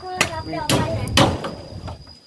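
A hammer strikes wood while a small hut is built, giving about three sharp, close blows spaced roughly half a second apart, with voices nearby.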